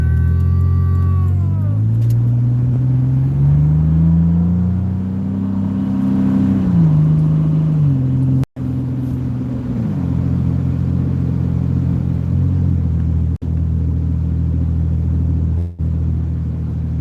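A van with a worn exhaust pulls away and accelerates on a snowy road, its engine droning loud and close with rising, shifting tones and a rough rumble.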